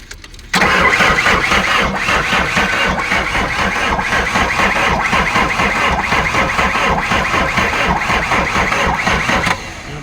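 An Isuzu 4BG1 diesel in a Hitachi EX backhoe cranks and catches after a brief quiet moment, then runs loud and rough with a pulsing clatter for about nine seconds before cutting back.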